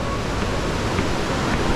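The Lembah Anai waterfall pours in a continuous, loud, broadband roar of rushing water, steady and unbroken throughout with no voices over it.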